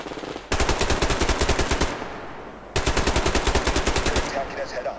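Two rapid, evenly spaced automatic bursts of gunfire in the shooter game Survarium, each lasting about a second and a half, loud and close, separated by a short lull.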